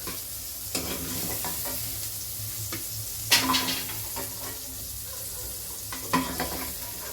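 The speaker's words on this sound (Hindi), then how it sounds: "यहाँ पे सोयाबीन भी अच्छे से फ्राई हो गया है।" Soya chunks fry in oil in a kadhai with a steady sizzle, while a utensil stirs and scrapes in occasional sharp strokes, close up and with no talking.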